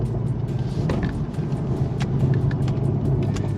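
Stock-sounding BMW M340i G20 engine and exhaust, a tame, steady low rumble with a smooth continuous drone and a few faint clicks, no talking.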